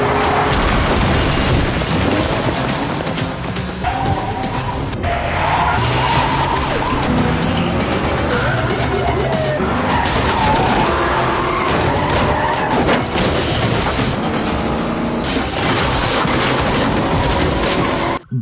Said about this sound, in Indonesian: Mobil Do-gi terbalik, terlempar, dan meledak hebat.